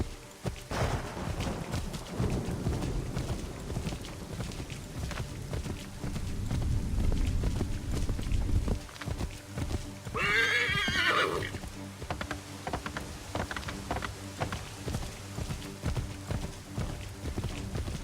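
A horse in the Assassin's Creed 3 video game gives a loud whinny midway through steady hoofbeats and movement, with soft game ambience around it.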